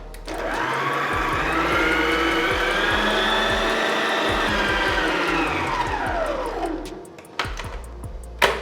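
An electric mixer beats room-temperature butter for a mango cake, a loud, steady whirring drone with faint ticking of beaters against the bowl, winding down near the end and followed by a couple of clicks.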